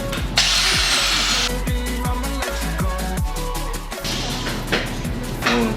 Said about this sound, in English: got my favorite tool of all time, angle grinder.